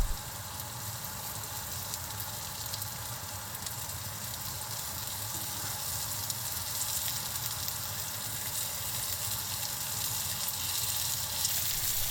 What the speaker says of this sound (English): Place the wrapped eggplant rolls in the pan,